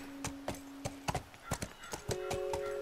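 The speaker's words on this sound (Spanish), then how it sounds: "Para eso sirve el caballo, para brincar estos lugares" Horse hooves clop in a quick, uneven run of sharp, close hits in The Last of Us, with a steady tone droning underneath.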